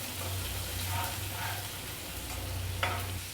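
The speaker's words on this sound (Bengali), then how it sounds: "এই মশলাটা প্রচণ্ড ছিটছে বলে এখানে আমি সামান্য একটু জল দিয়ে দেব" Spice paste for a Bengali fish curry spatters and sizzles in a pan, a steady frying hiss with low bubbling and a sharp pop near the end, close and moderately loud with no voices.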